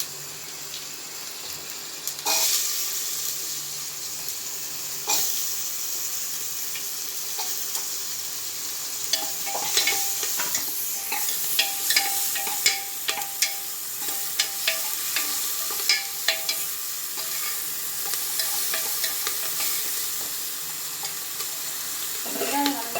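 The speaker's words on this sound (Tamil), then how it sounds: "இப்போ அடுத்து வெங்காயம் போடலாம்." Onions frying in oil after mustard seeds and cumin have popped, stirred around a pan for a Sirukkeerai kuttu dish; a steady close sizzle runs throughout with scattered clicks and scrapes of the spoon, no talking.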